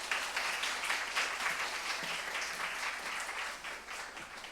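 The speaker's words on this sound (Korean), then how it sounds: "목사님을 환영하는 마음으로 또한 사랑의 마음으로 우리 함께 박수로 환영하도록 하겠습니다" A church congregation at a Sunday worship service applauds to welcome the pastor, a steady, dense round of clapping that holds throughout and tapers slightly near the end.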